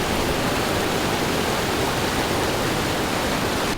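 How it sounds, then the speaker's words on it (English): Steady, loud rush of falling water from a waterfall on a Texas ranch, a continuous broadband roar that fills the whole stretch without a break. "There's a legit waterfall."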